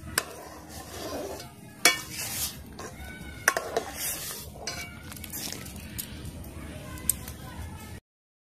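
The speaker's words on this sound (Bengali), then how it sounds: "দুধটা আবার ভালো করে 10-15 মিনিটের মতন ভালো করে জাল করে নিব।" Milk with muskmelon simmers in a pot while a spoon stirs it, making soft clinks and scrapes against the metal over a low bubbling bed, with occasional sharper knocks.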